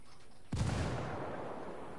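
Frag grenade blast in Ghost Recon: near silence, then one loud sudden boom about halfway in, trailing off into a long rumbling decay.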